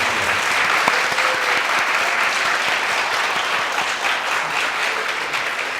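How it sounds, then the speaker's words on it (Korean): A hall audience at a 2018 university presidential candidate debate applauds to welcome a candidate, a dense, continuous clapping that stays steady and fairly loud throughout. "큰 박수로 환영해주세요."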